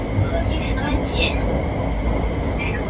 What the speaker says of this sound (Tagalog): Yan, ganyan yung train nila dito mga kalakbay.